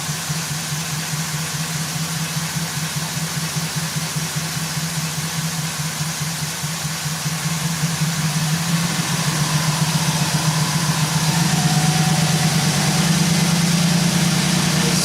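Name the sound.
2009 Chevy Silverado AFM engine idling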